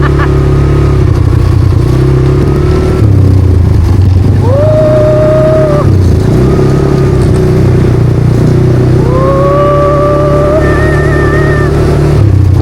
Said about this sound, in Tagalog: Dito naman kami sa ATV. 3 laps siya sa isang mahabang off-road course.